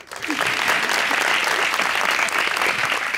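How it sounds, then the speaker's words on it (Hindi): Studio audience at a television talk show applauding steadily, a thick even roar of clapping that swells in quickly and holds at full strength throughout. "उनके लिए भी तालियां।"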